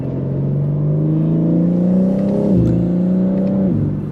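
A BMW G80 M3 engine pulls hard and loud close up, its pitch climbing steadily, then dropping sharply at two gear shifts before rising again.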